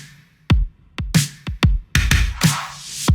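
Chopped R&B-style drum loop with sharp kicks and snare-like hits in a syncopated groove, hi-hat wash swelling between hits, played alone.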